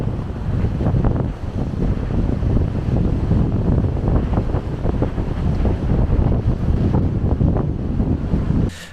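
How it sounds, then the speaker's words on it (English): Strong wind on a coastal headland roars and buffets the microphone without a break, a heavy, blustery rumble with no voices. "very windy."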